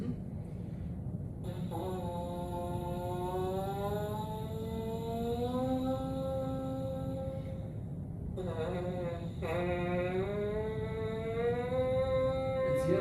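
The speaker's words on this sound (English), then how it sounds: "It's just one giant glissando within the horn" A French horn slides slowly upward in a long, smooth glissando, then starts again and bends upward once more over a steady background hum.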